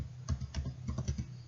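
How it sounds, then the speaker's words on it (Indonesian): Commands are typed on a computer keyboard in quick, light key taps, about eight distinct clicks in a steady rhythm, close and fairly quiet over a soft low hum. "ketikkan int G3/0, kita ketikkan enter, kemudian kita ketikkan IP"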